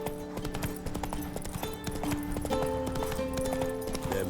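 Clip-clopping hooves of Roach, a horse in the video game The Witcher 3, trot at a steady rhythm close by, layered over a busy game soundscape with no talking.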